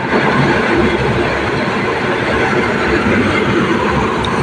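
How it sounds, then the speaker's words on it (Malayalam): A Southern Railway passenger train runs steadily past on its way through Kerala, a loud, continuous rumble with faint wheel clatter and no voices over it. "കേരള സദേൺ റെയിൽവേയുടെ ട്രെയിനാണ്."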